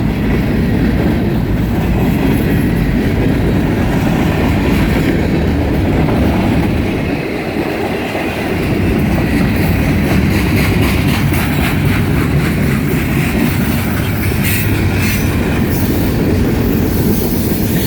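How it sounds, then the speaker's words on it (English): Loud, continuous rumble and rattle of train wheels rolling on rails, with a steady clatter and faint squealing, heard up close for the whole stretch. "I doubt if you can hear me over the train wheels."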